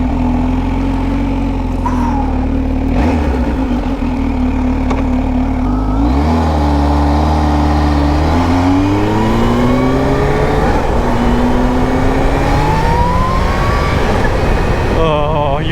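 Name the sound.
Kawasaki Z H2 supercharged motorcycle engine accelerating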